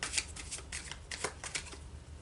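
Tarot cards are shuffled by hand in a quick run of papery riffles and flicks, close up and brisk, with no talking.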